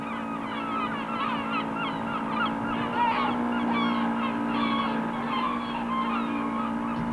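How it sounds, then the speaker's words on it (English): Many wading birds call over a tidal estuary's mud banks, a steady chorus of honking and chattering cries layered at a moderate distance, with a low hum running beneath throughout. "those birds over there, they all feed off this estuary, off the estuary worm mostly"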